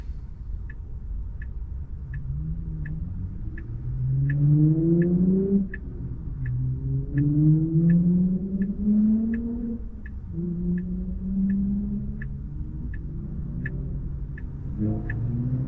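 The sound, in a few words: car engines revving at night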